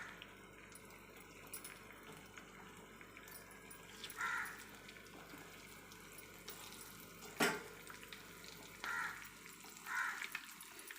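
Halved eggs laid yolk-side down in hot oil in a pan for spicy egg pepper masala, giving a steady low sizzle with a few brief louder crackling bursts and no talking.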